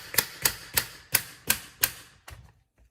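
A kitchen knife chops vegetables on a board in six crisp, evenly spaced strikes roughly three per second, close and clear, ending with a softer final tap.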